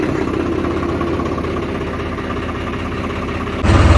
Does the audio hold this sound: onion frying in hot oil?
no